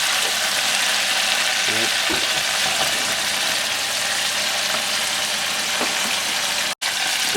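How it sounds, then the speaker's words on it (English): Walleye pieces deep frying in a fryer and stirred now and then give a steady, loud, close crackling sizzle throughout, with a brief voice near the end. "You just give it a little stir every once in a while? Just to see, just picking it out. Stir it around a little bit."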